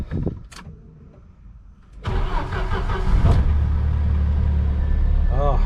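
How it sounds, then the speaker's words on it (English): A Jeep Wrangler engine cranks briefly and catches at about two seconds, then settles into a steady, loud idle rumble close by. "We'll see if she starts."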